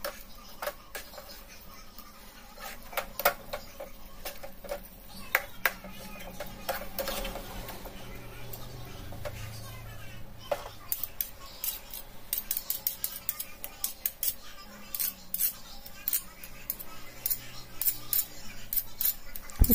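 A spoon stirs bread halwa in a pan, giving a steady run of quick metallic scrapes and clicks that grow denser and sharper toward the end, close and fairly loud with no talk.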